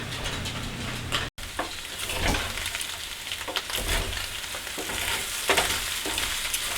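Sausages, potatoes O'Brien and eggs sizzle steadily in a pan, a loud continuous crackle with occasional scrapes of stirring and one brief dropout.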